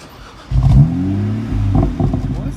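A car engine revs sharply, with rising and falling pitch sweeps in quick bursts, loud and close, followed by a rougher settling drone.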